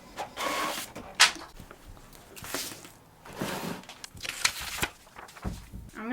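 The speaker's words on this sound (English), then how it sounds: "I'm just going to print this image to sort of size" A home printer printing an image, with close whirring passes and mechanical clicks coming in repeated bursts over a few seconds, no talking.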